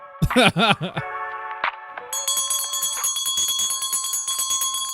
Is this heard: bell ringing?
yes